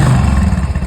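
A 2016 Royal Enfield Bullet Classic 350 single-cylinder engine running smoothly after repair, a steady close low thumping idle with light mechanical clatter and no talking.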